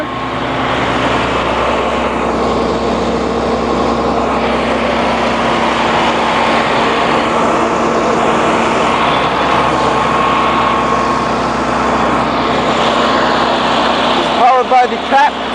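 A 2006 Blue Bird Excel 45-passenger transit bus with a Cat C7 7.2-liter turbo diesel idles in a steady, close, droning rumble that stays even throughout, with a short burst of handling noise near the end.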